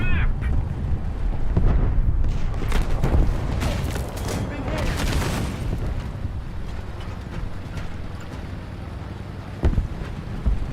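Gunfire in the video game Guerilla: dense, continuous bursts of shots and booms under a rumbling battle wash, loud and sustained, with a voice speaking over the noise.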